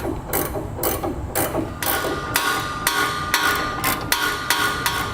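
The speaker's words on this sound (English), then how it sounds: "Now we'll tighten all our bolts on our center section to our rails." A wrench or ratchet tightens bolts on the center section rails of a B and W Companion underbed hitch kit on a 2016 GMC Sierra 3500, giving a steady series of sharp metallic clicks and clanks up close, with no talking.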